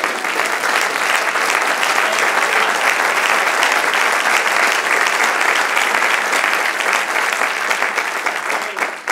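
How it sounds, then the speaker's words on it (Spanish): Sustained applause from a church congregation at a Spanish-language sermon, a dense, steady roar of many hands clapping together at full volume for the whole stretch without letting up. "Un aplauso al Señor"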